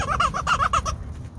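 A squeezed rubber toy chicken lets out a quick run of about seven rhythmic squeaky clucks, close and fairly loud, then stops.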